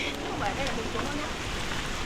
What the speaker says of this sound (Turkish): Valla çok yağmur var.